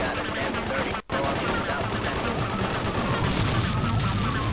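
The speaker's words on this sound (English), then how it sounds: "it is really powerful vehicle machine guns" Sustained, dense vehicle-mounted machine gun fire in Grand Theft Auto 2, a continuous rapid clatter with one brief dropout, mixed with game noise and a voice talking over it.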